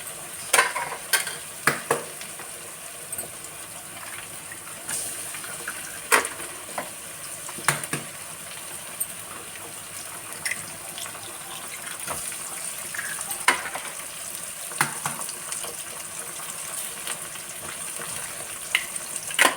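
Ragi sangati being stirred in a pan alongside frying egg, with a steady broadband sizzle and repeated scraping stir clicks at close range, no voices.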